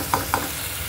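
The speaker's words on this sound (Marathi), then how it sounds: "तर आपला कांदा टमाटर खूप छान परतून झालेला आहे." Onion and tomato sauté in a hot pan with oil, a steady close sizzle broken by two quick scraping stirs of a spatula early on, with no voices.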